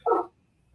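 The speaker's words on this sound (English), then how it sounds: "I'm sorry about my dogs." A single short dog bark, close and fairly loud, followed by quiet.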